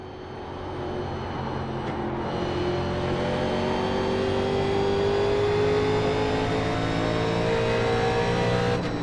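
NASCAR 87 race cars roar around the Iowa oval in a steady, loud drone of engines whose pitch slowly climbs as the pack holds on, with no voices over it.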